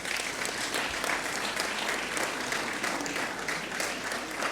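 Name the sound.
audience applause at a ceremony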